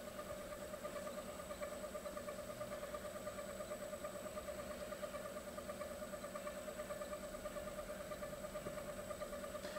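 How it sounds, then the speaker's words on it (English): A 1" x 30" Eldorado gun drilling machine runs its spindle at 1200 RPM, giving a steady, faint mechanical hum with a whining tone and a fine regular pulse, unchanging throughout with no speech. "Right now we're running the spindle."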